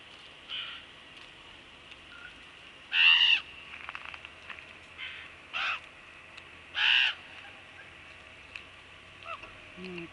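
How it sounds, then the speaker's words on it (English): Several crows give loud harsh caws in separate bursts while feeding on fish outdoors at Bella Bella, with quieter calls in between over a low background hiss. "Poor little crows don't have a chance,"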